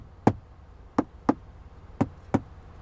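Five sharp knocks on the hard plastic dashboard of a 2020 Nissan Pathfinder Rock Creek Edition, close and hollow-sounding, spaced irregularly with no talking.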